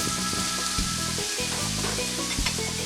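Shrimp sizzling steadily on a Blackstone griddle for a Caribbean jerk stir fry, a continuous frying hiss with a few soft clanks of a utensil against the metal surface.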